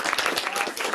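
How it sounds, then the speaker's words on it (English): An audience at a robotics seminar applauds the speaker, with brief, dense, loud clapping that fills the whole second. "Let's give a round of applause to our speaker."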